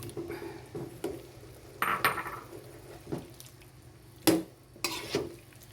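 Hotdog slices going into a pan for creamy chicken pastel, with several sharp clatters of utensil against cookware over a faint background fry, spaced irregularly and heard close up.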